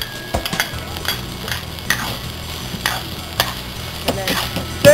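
Green peas tossed into a hot pan of oil with garlic for Chinese fried rice, a steady sizzle punctuated by scraping and clacking of a utensil against the pan, with no talking.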